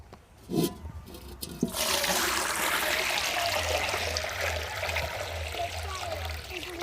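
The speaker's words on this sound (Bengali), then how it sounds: "দেখতে পাচ্ছেন আমরা এখানে কিছুটা জল ঢেলে নিয়েছি।" Water poured into a large pot, readied for steaming very big momos, runs as a steady close gushing stream after a couple of knocks, with a low rumbling hum underneath.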